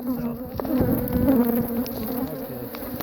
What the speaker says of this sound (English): This is a perfect example of a honeybee hive, and Africanized honeybees that love to swarm